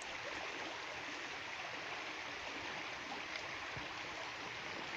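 A small spring-fed stream flows steadily along a hiking trail to the Dederkoy river waterfalls, giving a continuous close, broadband rush and gurgle with no voices.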